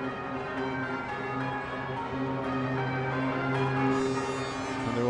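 Church bells pealing across London near Cadogan Pier on the Thames, a continuous ringing wash of tones sounding steadily and moderately loud, with no voices.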